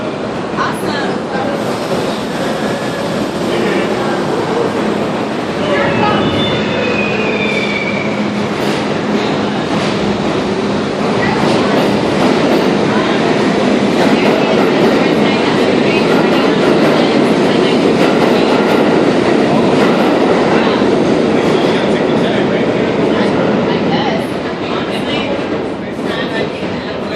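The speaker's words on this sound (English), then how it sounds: "They're just running the vintage train only for today." A vintage M subway train made up of R1-R9 cars runs loud and close, with a continuous rumble and rhythmic clickety-clack of wheels over rails and a faint squeal of wheels.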